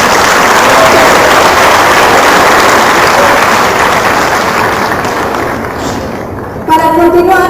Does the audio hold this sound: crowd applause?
yes